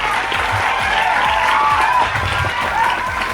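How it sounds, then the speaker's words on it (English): A round of applause from the audience for the teachers at a school math quiz event, steady dense clapping from a crowd heard close and continuous throughout. "So a big round of applause for them."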